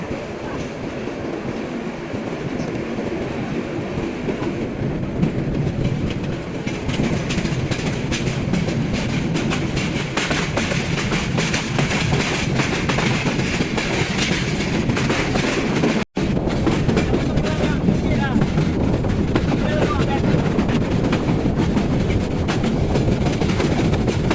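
The Parabat Express passenger train runs on the Tongi–Akhaura line toward Sylhet in Bangladesh, a loud, steady rumble with continuous rhythmic clickety-clack of wheels over rail joints, heard from on board for the whole stretch.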